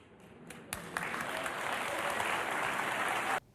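A studio audience at a Bachelor season finale breaks into steady, sustained applause that swells quickly and holds for about three seconds before cutting off abruptly.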